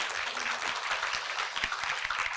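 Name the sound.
applause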